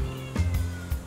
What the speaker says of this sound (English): sitting at the door meowing at us